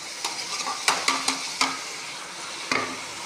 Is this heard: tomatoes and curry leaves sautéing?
yes